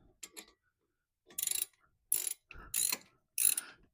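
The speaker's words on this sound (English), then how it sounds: "These are only 25 foot-pounds, so we're gonna adjust the torque wrench accordingly." A torque wrench is set to 25 foot-pounds while working on a front brake rotor and caliper, giving short close ratcheting clicks in several separate bursts with quiet gaps.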